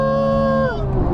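A Porsche 911 GT3 Touring flat-six howls loud and close at a steady high pitch near 9,000 rpm, then the tone falls away sharply as the revs drop.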